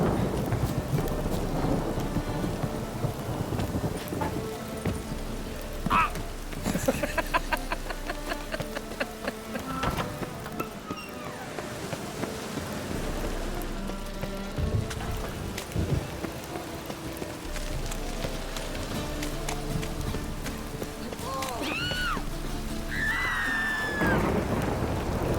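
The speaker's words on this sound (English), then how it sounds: "It just rains and rains." Rain and rolling thunder in The Witcher 3 form a dense, continuous wash of downpour with deep rumbles throughout, plus a few brief whistling and creaking sounds near the end.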